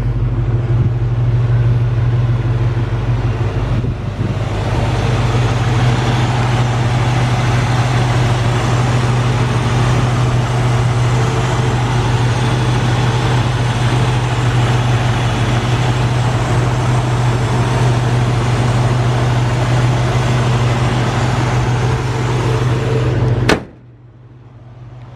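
A 1968 Ford Mustang J-code with a 302 V8 and automatic transmission, idling steadily with a constant low drone and hum for over twenty seconds. A sharp click near the end is followed by near silence.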